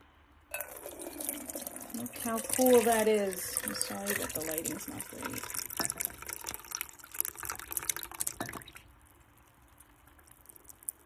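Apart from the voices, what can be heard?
strained mashed fruit and vegetable juice poured into a bowl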